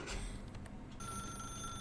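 A telephone rings in The Stanley Parable Ultra Deluxe: a steady electronic ringing tone starts midway and holds over a muffled game backdrop.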